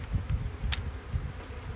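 Honeybees from a newly installed package crawl over hive frames feeding on sugar water, a soft, close, continuous buzzing hum with faint rustling.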